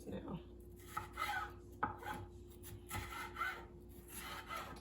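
Vegetables for a canned Zuppa Toscana soup are chopped with a knife on a board, several firm, uneven chops landing close by, with a brief spoken word over them.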